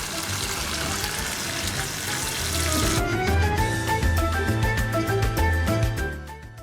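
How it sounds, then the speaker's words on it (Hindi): Sliced ridge gourd with lemon juice fries in a pan over medium-high heat, a loud continuous hiss that shifts partway into a steadier sizzle with light stirring and clinks. "अब मैं इसके अंदर लेमन जूस डाल के इसको भून लूँगी।"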